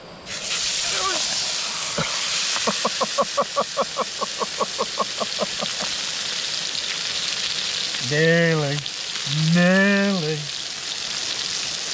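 A steak sizzles in a pan at a woodland tarp-and-bivvy wild camp in Snowdonia, a steady close frying hiss running throughout, broken by a rapid pulsing rattle and a couple of brief voiced sounds near the end.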